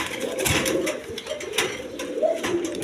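Pigeons, a male and female pair held at a pigeon sale, cooing with low throaty calls close by, mixed with rustling and fluttering wing movements, no talking.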